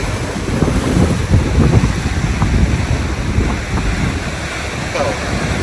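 Ocean waves off the coast of Greece, a continuous broadband wash of surf mixed with strong wind buffeting the microphone, loud and steady throughout.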